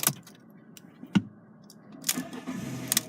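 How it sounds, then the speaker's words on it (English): A 2010 Fiat 500 C Lounge is started up with a short starter crank, preceded by a key click, followed by the engine catching and settling into a quiet idle nearby. "just getting the car started."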